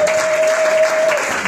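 A church congregation at a Sunday service claps in a dense, steady burst of applause, with a faint sustained tone underneath.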